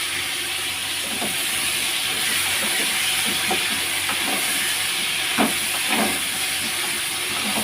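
Steam hissing loudly and steadily from a pan of frying pointed gourd as the lid is lifted, with a few soft knocks and clatters.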